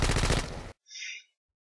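Machine gun fire in the video game ZMR: a loud, rapid burst of automatic shots for well under a second, followed by a short high-pitched ringing tone.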